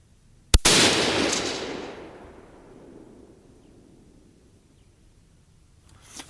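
A single sharp rifle shot during an accuracy test at an outdoor range, followed by a long rolling echo that fades over a few seconds.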